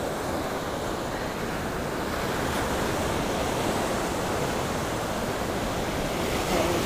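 Ocean waves breaking on a beach shore during surf fishing for a shark, a continuous broadband wash of surf mixed with wind noise on the microphone, steady and fairly close, with no voices.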